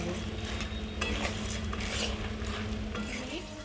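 Dry boondi being stirred into a pan off the heat, giving a steady close scraping and rustling with light clinks of the spoon against the metal throughout.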